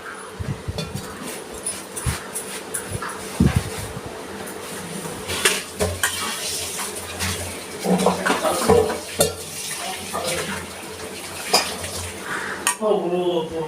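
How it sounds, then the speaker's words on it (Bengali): Chicken beguni batter with chili powder and water being whisked in a bowl, with repeated metallic clinks and scraping of a utensil against the bowl in an irregular rhythm, close by. "এবার অল্প অল্প জল দিয়ে আমি একটু গুলে নিচ্ছি।"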